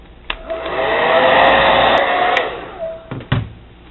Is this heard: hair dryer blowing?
yes